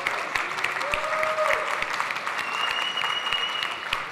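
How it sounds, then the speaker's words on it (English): A seminar audience at a real estate talk applauds steadily, a dense wash of clapping sustained throughout, with a few faint whistles rising above the crowd. "Give yourself a round of applause"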